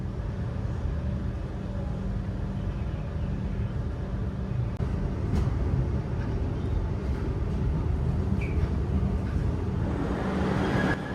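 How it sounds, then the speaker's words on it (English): Steady rumble and rattle of a commuter train ride into central Melbourne, a continuous low roar heard from inside the carriage with occasional faint squeals and clicks, and no talk. "we're taking the train about a half an hour ride to Melbourne CBD"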